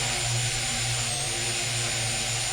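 Drone motors spin up for takeoff with a loud, steady electric whine and buzzing hum that holds continuously and close by, with no talking.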